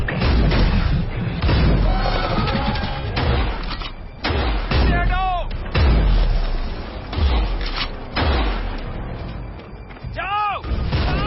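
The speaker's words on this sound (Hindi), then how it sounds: "नाइट, कवर फायर दो।" Film battle scene with heavy covering gunfire: repeated loud booming shots and thuds in bursts, along with whooshing projectiles and urgent shouted voices throughout.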